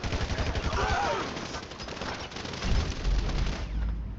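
Sustained gunfire in the video game GTA 5, a firefight with bursts of automatic shots and heavy booms that rise louder toward the end, a brief voice mixed in under the dense shooting.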